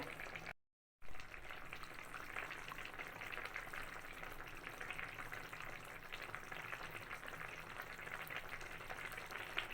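A vegetarian vegetable curry gravy made with summer vegetables simmers and thickens in a pan, giving a soft, steady sizzling and bubbling that continues throughout with one brief dropout near the start.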